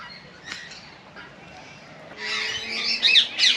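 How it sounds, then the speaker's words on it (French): Parrots and other aviary birds, with peacocks nearby, squawking and chirping close by, growing louder and busier in the second half after quieter scattered calls. "des perroquets, toutes sortes de volatiles, je vous avouerai, je les connais pas tous. Derrière moi donc on a des paons."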